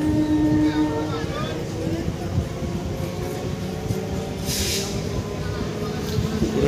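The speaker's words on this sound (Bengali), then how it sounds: "ট্রেন ছেড়ে দিয়েছে মাত্র" A train pulls out of Bagula station, a low continuous rumble and hum of the moving carriage with a faint higher whine, steady and close throughout, no speech over it.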